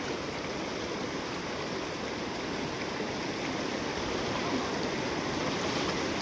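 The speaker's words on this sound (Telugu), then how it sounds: "water falls" A village waterfall stream rushes in a continuous, even roar of cold flowing water, loud and close with no voices over it.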